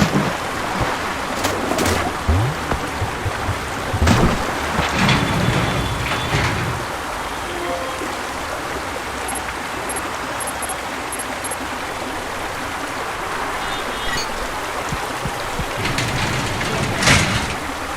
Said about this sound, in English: now it's back with waterfalls